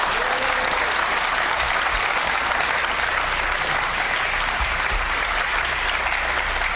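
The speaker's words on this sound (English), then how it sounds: "Round of applause," A studio audience at a TV game show applauding, dense steady clapping sustained evenly for several seconds, fairly loud and close.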